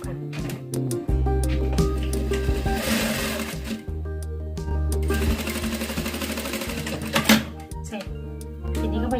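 A sewing machine stitches a shirt collar to its lining in quick bursts of rapid mechanical whirring, stopping and restarting several times at close range, with someone talking quietly between runs.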